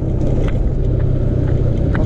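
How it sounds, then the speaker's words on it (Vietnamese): A car engine labours up a steep mountain road on the way to Ky Co beach. It is a loud, close, continuous rumble with a steady drone and no speech. "ô tô thì đang bò lên nè"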